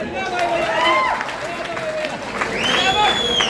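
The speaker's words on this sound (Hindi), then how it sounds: "एक बार अपने लिए पुरजोर तालियां बजा दें" An audience at a mushaira poetry gathering in Deoband bursts into applause, steady crowd clapping mixed with whistles and calls, loud and continuous throughout.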